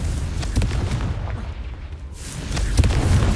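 Fiery blasts from the Confringo spell in the Hogwarts Legacy video game land as deep booming explosions, several loud bursts with rumbling low end across a few seconds.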